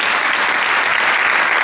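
A big round of applause from the crowd at a high school post-prom event, loud and dense, sustained steadily from start to finish.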